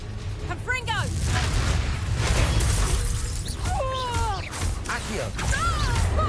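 A Confringo fire spell blast in Hogwarts Legacy, several sharp crackling bursts with swooping whistles in quick succession over a dense low rumble of combat, loud and close amid a chaotic magical duel.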